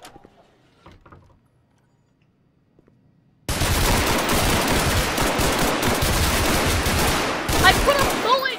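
Gunfire in Garry's Mod, heard as quiet faint knocks and a near-silent stretch, then sustained dense, loud firing that continues to the end without pause.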